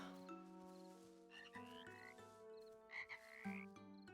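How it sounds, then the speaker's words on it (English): Frogs croak repeatedly from the water in the video game Little Witch in the Woods, clear short calls layered over steady tonal game music. "I'm trying to catch the frogs in the water"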